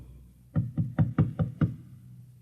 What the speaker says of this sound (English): And then there was a knock on the door.